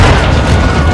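RPG explosion in Modern Warfare 2 combat, a loud sustained booming blast filling the whole second, dense low rumble with no gap.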